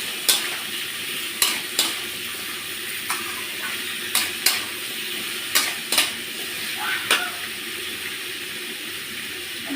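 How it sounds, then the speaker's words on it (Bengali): Taro stolons with red lentils stir-fry in a pan over a steady loud sizzle. A spoon scrapes and clatters against the pan about once a second. "এই যে আমি এরকম একটু ভাজা করে নিয়েছি এবার আমি কচুর লতিগুলো দিয়ে দেবো"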